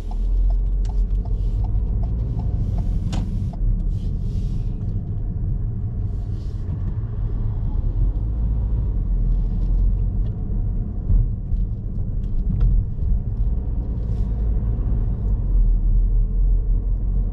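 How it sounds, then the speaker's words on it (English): A car's engine and tyres rumble steadily from inside the cabin as it rolls over speed bumps on a driving test route in Wednesbury, with a few soft knocks and clicks over the constant low road noise. "going over speed bumps I'm just going to ease off the gas here let my car roll over"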